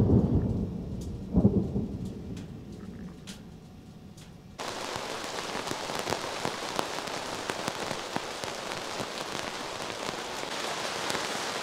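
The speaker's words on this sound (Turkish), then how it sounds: "Şu an gök gürlüyor, yıldırım çakıyor." Thunder rumbles over heavy rain during a thunderstorm at a campsite, starting with low booming rolls, then a sudden loud, steady downpour that drums close and continuously with no talking.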